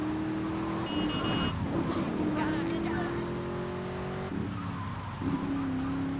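A car engine in the video game Grand Theft Auto 3 Definitive Edition, revving steadily with the accelerator held down, a sustained droning tone that shifts pitch slightly, with tire noise and someone talking over it.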